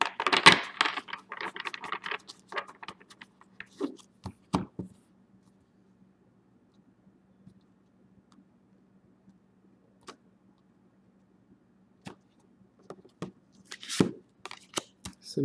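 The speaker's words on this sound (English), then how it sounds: "And your fourth and final shuffle for solicitation." Tarot cards are shuffled by hand in a flurry of quick riffling and slapping at the start, then a long near-silent stretch follows with scattered single taps and card clicks, and a few more brisk handling sounds close the stretch.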